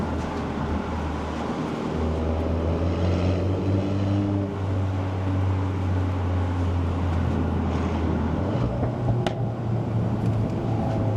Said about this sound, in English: loves the exhaust, loves the noise of it